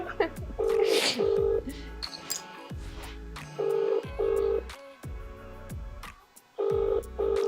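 A phone ringback tone plays over a loudspeaker, pulsing in repeated paired bursts with short gaps, with faint background noise between rings.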